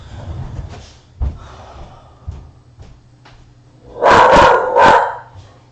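A dog barks in a quick burst of several loud, close barks near the end, after quieter indoor noise and a couple of soft knocks.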